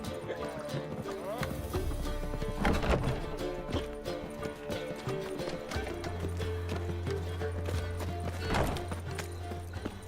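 Roach, the horse in The Witcher 3: Wild Hunt, galloping with a busy, rapid clip-clop of hooves. A low drone runs underneath and other game sounds sit in the mix.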